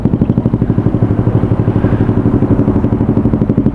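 A Yamaha Vega Force FI fitted with an SC Project exhaust runs at a petrol station, its loud, close exhaust pulsing in a fast, steady throb.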